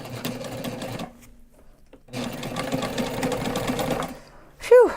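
A sewing machine basts a seam on a backpack in two loud, steady bursts of rapid stitching separated by a short pause, with a brief squeaky sound at the end.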